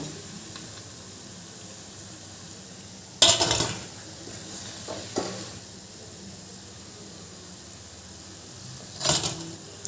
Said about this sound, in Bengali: বাকি কোপ্তাগুলো একই রকমভাবে ভেজে নেবো